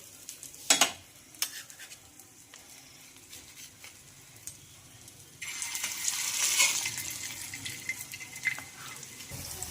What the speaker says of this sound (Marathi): तर आपण आता एक एक टिक्की यामध्ये फ्राय करून घेऊया